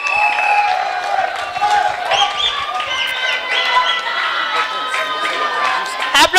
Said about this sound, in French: On l'applaudit très très fort.